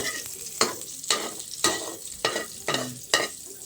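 Oil sizzling in a pan for sautéing, a loud crackling hiss broken by repeated bursts of stirring or spattering at a fairly regular pace, close up.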